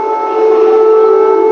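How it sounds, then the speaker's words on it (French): Air raid siren sounding over Kyiv, a loud, steady sustained wail with no talk over it. "Les sirènes résonnent dans la ville."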